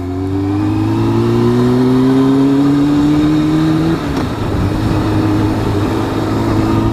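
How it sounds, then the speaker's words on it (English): Sport bike engine revving loudly up close, pitch climbing steadily for about four seconds, then dropping briefly before settling into a strong steady drone, with no talking. "another reason that I chose the sport bikes, because I think they sound awesome"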